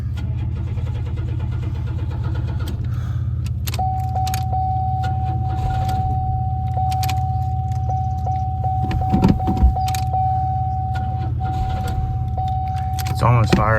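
A 1993 Oldsmobile Cutlass Ciera engine struggling to keep running, a steady low rumble with a long sustained whine, some clicks and jangling, and someone talking over it.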